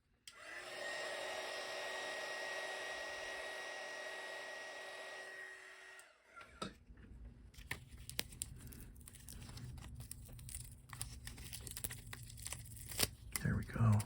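A heat gun blows a steady, loud whoosh for about six seconds while loosening glue on an iBook G3 clamshell keyboard, then cuts off and gives way to crinkling and tearing handling noises of the thin keyboard layers.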